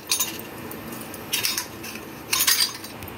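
Metal clinks and scrapes from a metal sev press being closed with the mould inside, three brief clattering bursts over a quiet kitchen background, close by and without speech.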